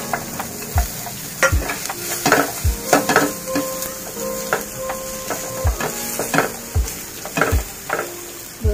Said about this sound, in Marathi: बघा आपला कांदा पण आता भाजत आलाय, छान भाजून झालाय